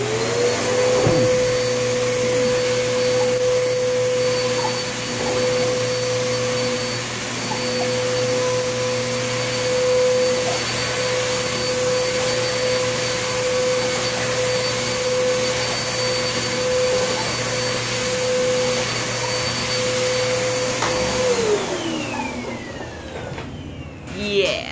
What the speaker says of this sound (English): I will show you what it looks like trying to vacuum with the old one.